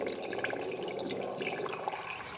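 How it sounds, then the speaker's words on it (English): Gravity-fed water pours down a pipe into a barrel, a steady hollow rushing with ringing, reverberant splashes, continuous and fairly loud with no voices. "You can hear the interesting reverberation of the water as it flows down the pipe into the barrel."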